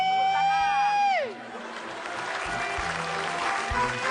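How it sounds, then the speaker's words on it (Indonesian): On an Indonesian TV comedy talk show, a descending electronic tone slides down and cuts off. A studio audience then breaks into applause mixed with cheering, moderately loud and continuing steadily to the end. "Tepuk tangan."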